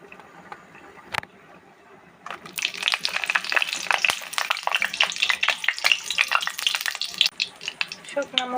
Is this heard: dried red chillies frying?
yes